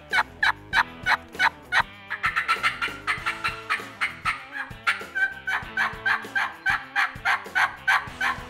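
A turkey call imitates a hen turkey, opening with a short burst of sharp, rapid cutting clucks and then moving into a run of excited, rhythmic yelping notes, loud and close with no other sounds.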